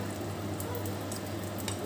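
Pancake batter sizzles in a preheated frying pan, a steady close crackling hiss that holds evenly throughout with no talking.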